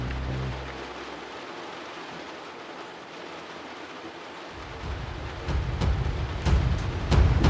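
Steady rain falls outdoors on a ranch during a deer hunt, a dense even hiss that swells louder and heavier near the end with a few sharper spatters.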